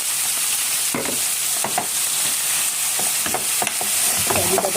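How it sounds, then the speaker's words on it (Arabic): Liver frying with garlic in a pan, Alexandrian style, with a constant close sizzle and repeated stirring scrapes and clinks through the clip. "وهنيجي الكبده دوبك بس تاخد لون ذهبي كده، وهنيجي نازله بالكبده"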